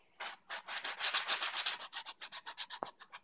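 Quick back-and-forth strokes of 300 grit sandpaper lightly buffing a Batman cowl neck piece, a rhythmic close rubbing hiss of about twenty passes with no talking.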